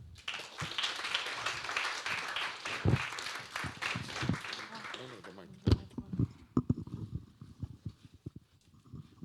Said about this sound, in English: So please give Portrait XO or Rania a round of applause.